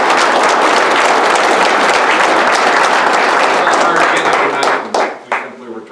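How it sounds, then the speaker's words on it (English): Audience at a township board meeting breaks into a big round of applause, dense loud clapping sustained for about five seconds before thinning into a few last claps. "everybody here needs to support and give Erin a big round of applause"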